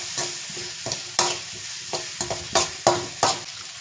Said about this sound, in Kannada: ರುಚಿಗೆ ತಕ್ಕಷ್ಟು ಉಪ್ಪನ್ನ ಹಾಕ್ಕೊಂಡು ಚೆನ್ನಾಗಿ ರೋಸ್ಟ್ ಮಾಡಬೇಕು